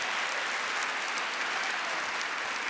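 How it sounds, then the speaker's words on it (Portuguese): A church congregation applauds steadily, a soft, even wash of many hands clapping at a distance with no break. "Uma salva de palmas para você."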